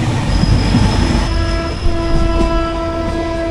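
The Nanded–Amritsar Sachkhand Express rolls past loud and close, wheels clattering and squealing on the rails as a sustained horn tone sounds over the rumble.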